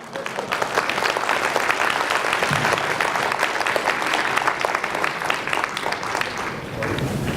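Applause from an audience in a convention hall, dense clapping that holds steady for several seconds with some crowd noise mixed in.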